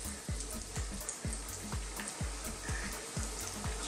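Jamaican fried dumplings frying in oil that is too hot, a steady dense sizzle with regular soft bubbling pops throughout, close and fairly loud, no talk.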